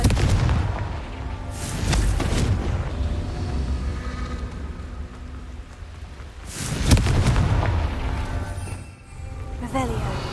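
Blasting-spell explosions in Hogwarts Legacy, deep booming blasts with a rumbling tail, one early and a stronger one near the end, under a player speaking.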